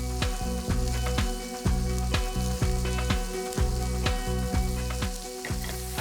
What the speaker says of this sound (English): So in with the mushrooms, and we'll wait for them just to break down a little.